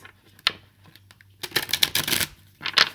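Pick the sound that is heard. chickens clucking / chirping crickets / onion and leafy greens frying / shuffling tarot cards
shuffling tarot cards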